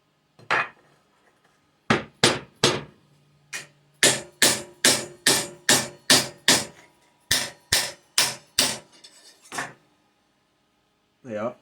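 A hammer whacks metal parts being prepped for a copper boiler on a traction engine build, a loud, close series of about fifteen sharp clanging strikes in an uneven rhythm with short pauses.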